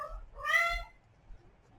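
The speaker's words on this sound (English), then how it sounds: "one of my cats, not Pebbles." A pet house cat gives a single short meow, clear and fairly close, in an otherwise quiet room.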